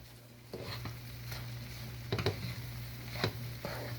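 Bread and semolina halwa is stirred in a pan, giving a few distinct scraping, squishing strokes over a soft, steady sizzle and a low background hum, close and moderately loud, with no talking.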